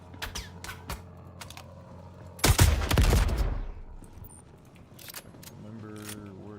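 Video game gunfire from a shooter being played: a few quick separate shots early on, then a loud burst of rapid fire in the middle that fades out, with voices talking over it.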